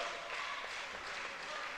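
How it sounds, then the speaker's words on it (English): French crowd applauding their team at a women's EuroBasket basketball game against Ukraine, a steady broad wash of clapping from a large arena audience. "French crowd on their fleet applauding their team"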